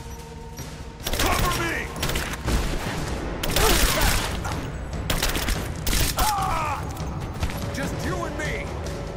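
Gunfire from a battle in the video game Rise of the Tomb Raider, with dense bursts of shots and booms starting after a second and running on steadily, while voices shout over the fighting.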